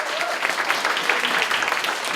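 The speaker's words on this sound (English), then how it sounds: "a warm round of applause, please" An audience at a writers' conversation event welcomes the guest with brief, steady applause, many hands clapping in a dense, even patter close by.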